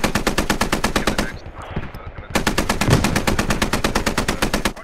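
Sustained heavy machine gun fire in the video game Squad, a .50 calibre weapon rattling off loud, steady rapid shots, pausing briefly before resuming in a long continuous burst.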